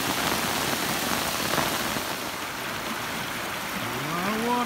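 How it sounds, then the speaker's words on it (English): Floodwater rushing down a small forest creek drainage at Berry Hill Fork, a loud, continuous broadband roar close by, steady throughout with no voices. "A lot of water coming down this little drainage in Berry Hill Fork."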